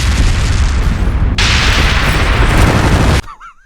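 Loud, dense explosion effects for a 3D intro jingle, a continuous wall of booms and blasts that surges brighter halfway through, then cuts off abruptly into a faint tail.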